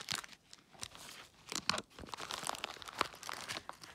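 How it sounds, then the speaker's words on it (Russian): Opened packaging of spunbond garden tape being handled, giving close, quiet crinkling and rustling of plastic wrap in irregular bursts over four seconds. "Вот я ее уже открыла упаковочку"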